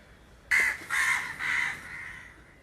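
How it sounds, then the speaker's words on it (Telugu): Crows cawing in a village, three loud, harsh calls in quick succession close by, followed by quieter background noise. "మా ఊర్లో కాకులు ఎక్కువండి."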